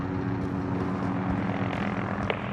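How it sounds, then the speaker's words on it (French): Helicopters in the Call of Duty Modern Warfare game, a steady droning rotor and engine hum with a faint rhythmic thrum, moderately distant and continuous. "Barkov déploie des hélicoptères."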